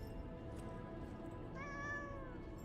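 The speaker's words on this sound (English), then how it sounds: "But hello, kitty! Oh, we get to hug the kitty!" A cat meows in the video game Lies of P, a single soft drawn-out meow over a steady low in-game ambient hum, faint and alone.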